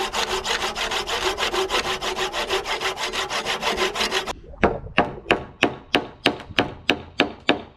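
Handsaw cutting a wooden roof-frame timber, with fast, even back-and-forth strokes that shift to slower, sharper, separate strokes, close and clear with no talk.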